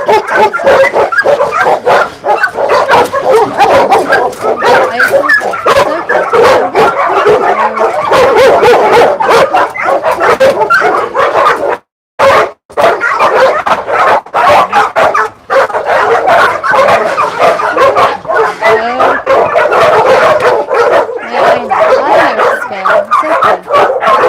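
Many caged dogs on a South Korean dog meat farm bark, yip and whine almost continuously in a loud, dense chorus, with only one brief gap midway.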